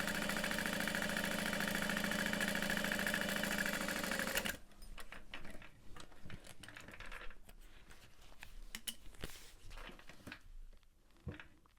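Sewing machine back stitching a seam on a backpack, a rapid buzzing whir running steadily for several seconds before stopping abruptly, followed by quiet scattered clicks and handling noises.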